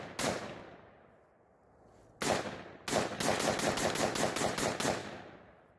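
A powerful gun fired outdoors on a homestead: one loud shot, a pause, another shot, then a rapid burst of about ten evenly spaced shots, each sharp and close with a trailing echo.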